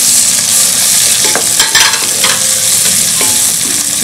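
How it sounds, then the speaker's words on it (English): Tomatoes tipped into softened onions in a hot pot for chicken rasam, a loud steady sizzle with stirring scrapes and small bursts of crackle, no voices. "I'm adding the tomatoes now."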